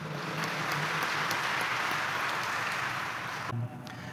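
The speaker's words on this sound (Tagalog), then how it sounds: "Palapakan natin ang Poong Jesus Nazareno." Congregation at Quiapo Church clapping for Jesus Nazareno during Mass, a broad, even wash of many hands that holds steady for over three seconds, then drops off abruptly to quieter room sound.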